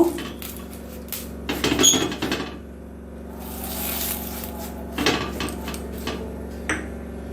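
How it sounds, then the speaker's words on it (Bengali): An iron pitha mould being greased with a little oil, heard as close scraping, rubbing and metallic clattering in irregular bursts over a low burner hum. "এবারও আমি ছাঁচে একটু অল্প করে তেল মাখিয়ে নেব"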